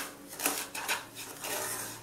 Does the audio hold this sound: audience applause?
no